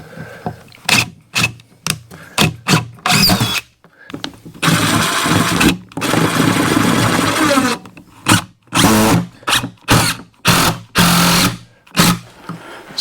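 A power drill drives 3-inch screws through an angle bracket and a 1-inch board into wood, in short repeated whirring bursts and one longer sustained run, loud and close.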